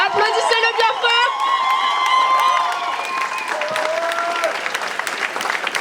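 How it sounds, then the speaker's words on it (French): Crowd applause and cheering at a political rally against the far right, a dense sustained clatter of clapping with scattered shouts from many people, loud and continuous throughout. "Applaudissez-le bien fort."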